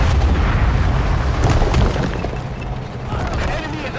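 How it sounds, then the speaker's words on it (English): Anti-tank guided missile fires in a Men of War: Assault Squad 2 Cold War battle at the Berlin Wall, a loud booming blast over dense continuous battle noise, with voices talking throughout. "ATGM firing there."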